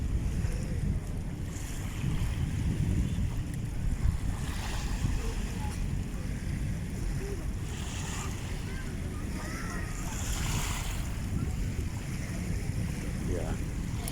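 Waves wash against the Manila Bay shore in a steady, continuous surge, with wind buffeting the microphone and faint boat and distant crowd sounds blending into the rumble.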